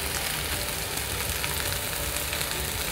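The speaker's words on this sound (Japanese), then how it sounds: "このみじん切りのニンニクを入れます。" Minced garlic and onion frying in a pan produce a continuous, even sizzle and crackle, close and fairly loud, with no talk over it.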